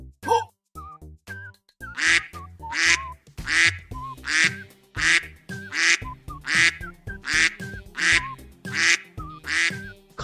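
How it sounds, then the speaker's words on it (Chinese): Farmyard ducks quacking repeatedly in a rural village setting, loud close honking calls in a steady rhythm of about one burst per second, with no talk over them. "看到这些鸭子了吗？"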